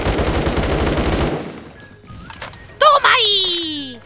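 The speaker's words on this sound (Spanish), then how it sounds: "creo que están tomando posición de arriba y nos están disparando con algún rifle de lejos" Rifle gunfire in a video game, a fast loud burst of automatic shots that stops abruptly, followed by scattered faint clicks and a rising then falling electronic tone.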